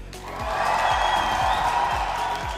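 Esports arena audience at a Red Bull Home tournament cheering for Fnatic, a broad sustained roar of shouts and applause, loud and dense, over faint rhythmic thuds.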